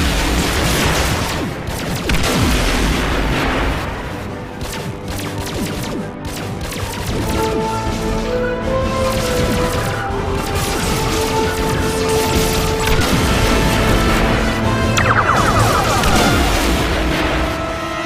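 The Star Trek Enterprise fires its weapons at enemy fighters in a dense, continuous battle barrage: repeated blasts, booms and crashes layered over tonal sci-fi effects that rise and swell throughout.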